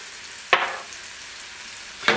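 Garlic sizzles softly in oil in a pan, a low steady hiss broken by two brief, louder scraping stir strokes about one and a half seconds apart, no talking.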